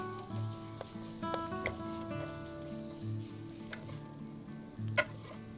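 Rice stir-fried with butter in a pan sizzles and crackles softly, with intermittent scraping and clinks of a utensil against the pan, close and fairly quiet, with no talking.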